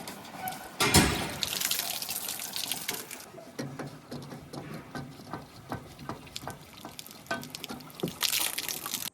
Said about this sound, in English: I'm actually going to go ahead and throw a little bit of water in the tank